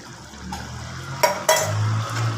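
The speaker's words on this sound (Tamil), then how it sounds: "பச்சை எண்ணெயை இப்படி ஊற்றி வைக்கிறோம்." Raw oil poured over a pot of fish curry, a soft continuous low pour with a couple of brief clinks of utensil against the vessel partway through, close and without talk.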